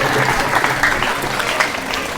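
Warm applause from an audience at an Independence Day stage event, dense steady clapping filling the whole moment as a speaker is welcomed onto the stage.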